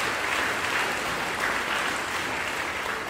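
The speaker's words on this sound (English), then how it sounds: "So special round of applause for the coaches and the guys" A crowd at a state football and cross-country pep rally gives the coaches and players sustained applause, a broad, steady roar of clapping from many people, heard from a distance.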